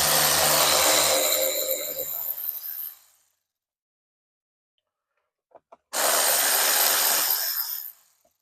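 A 9/32 bolt comes out of the door panel of a 1999-2006 Chevy Silverado to a loud, close whirring tool in two bursts of about three seconds each, split by a quiet pause with a couple of small clicks.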